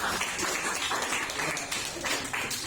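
A small audience claps together at a gathering held in a church, a brief, moderately faint patter of hands without cheering.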